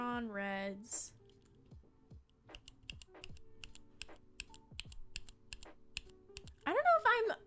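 Gateron Red keyboard switches clack in short irregular bursts of typing, soft and close, while a person talks briefly at the start and end.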